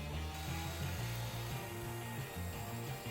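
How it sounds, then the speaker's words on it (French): A router fitted with a small rounding-over bit rounds the edges of a wooden headboard, giving a steady high-pitched whine that wavers in tone as it cuts. "j'utilise une petite fraise type bec de Corbin, hein, et j'utilise que la partie arrondie pour faire un petit rond sur les arêtes"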